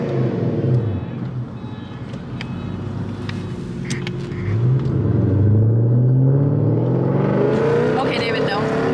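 Bagged Lexus LS400 engine at a car meet, a steady low rumble that climbs into a loud rising rev near the end, with people shouting and talking over it.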